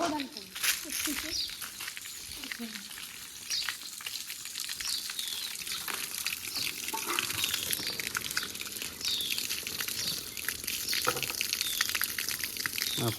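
Tap water splashing and running into a small container outdoors, a broad hissing flow with irregular splashes, heard close under people talking.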